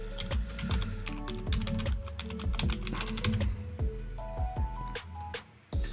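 Fingers type steadily on a computer keyboard, a fast run of crisp, close key clicks with a few brief pauses, alone without speech.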